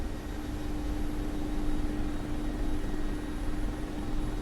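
Mi-24P Hind attack helicopter in the DCS flight simulator, its rotor and turbine engines droning steadily with a constant tonal whine over a dense low rumble, close and continuous without pause.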